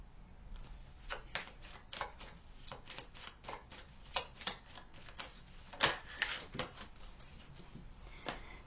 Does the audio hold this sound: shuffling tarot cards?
yes